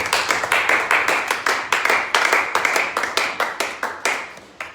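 A church congregation claps rapidly during a prayer service, a dense burst of many hands beating close and loud in a quick, steady rhythm with no talking.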